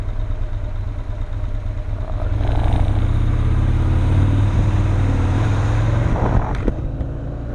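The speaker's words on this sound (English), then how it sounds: "This one makes closer to 100, and it makes a ton of torque. It's a 1200 cc V twin" A 1200 cc V-twin motorcycle engine fitted with Thunderstorm heads runs close by, a loping low rumble at idle that swells slightly as it is revved, with a few faint clicks near the end.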